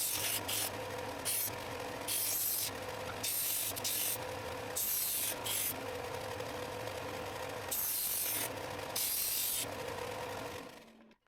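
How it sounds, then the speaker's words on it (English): Belt sander rounding wooden semicircles for a kitchen paper holder, a steady motor whine with repeated loud gritty rasping bursts as the wood is pressed to the belt, fairly close and with no talking. "Then I sand the semicircles completely round using the belt sander."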